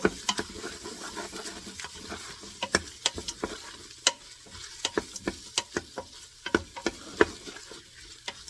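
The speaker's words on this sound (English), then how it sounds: "I'm going to put all these cut potatoes into the Instant Pot. And stir it again." Cut potatoes being stirred in an Instant Pot for vegetable biryani, with sharp spoon clinks and scrapes against the metal pot over a soft sizzle, close and irregular, with no voices.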